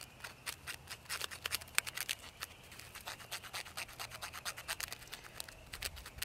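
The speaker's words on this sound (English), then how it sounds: "just lightly scrape some of this stuff off and get a nice little pile of this birch bark here" Birch bark being lightly scraped with a ferro rod into a pile of fine tinder, a quiet, close run of short rasping strokes in an uneven rhythm, with no voices.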